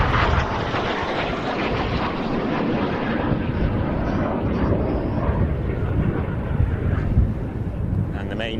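The Frecce Tricolori solo jet flies display manoeuvres at the Royal International Air Tattoo, a continuous loud jet roar with wind buffeting and a voice talking over it.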